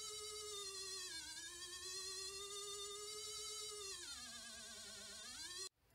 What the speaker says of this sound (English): So I built this circuit, as you can see, as the two 555 timers, capacitors, resistors, light-dependent resistor.